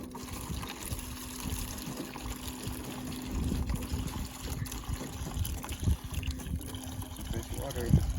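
Fresh water trickles and splashes steadily outdoors near a highway mile marker, a soft continuous flow with a few louder gurgles, while a person talks faintly over it.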